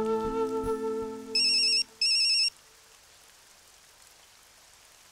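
A telephone ringtone chimes in two short bursts after fading music, then quiet room tone follows with no one speaking.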